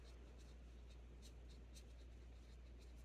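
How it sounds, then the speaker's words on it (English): Pen scratching across paper in short, quiet strokes, repeating in light bursts against a steady low hum in a calm indoor room. "Let's write that down."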